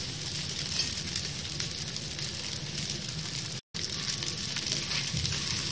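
Oil sizzles steadily in a pan while rava dosa cooks, a close, dense hiss that holds an even level throughout, broken only by a very brief dropout near the end, with no voices.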